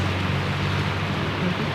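Steady rain hiss at an Indonesian street food stall selling nasi goreng, a continuous wash of broadband patter with a low hum underneath, no voices.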